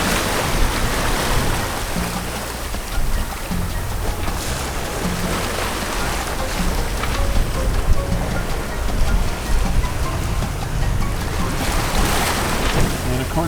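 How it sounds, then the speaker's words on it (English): A sailboat running downwind in about 18 knots over a whitecapped sea off rural Mexico, a loud, constant rush of wind and water with waves washing against the hull. "We're on a run and it's blowing about, maybe 18 knots right now."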